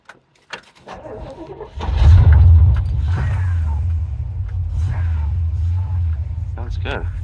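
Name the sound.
1956 Chevy 210 327 V8 engine starting and idling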